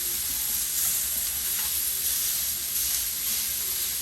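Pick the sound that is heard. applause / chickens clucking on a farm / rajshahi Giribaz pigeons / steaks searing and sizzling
steaks searing and sizzling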